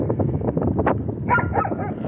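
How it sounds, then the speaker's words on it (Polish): Dogs by a tributary of the Pilica river bark and yip in several quick close bursts, with a higher whimpering tone near the end and no voices. "Jak zaczęły szczekać"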